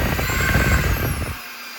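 A eufy E20 3-in-1 robot vacuum switches on with a loud, broadband whooshing suction that runs for over a second, then quickly winds down and stops.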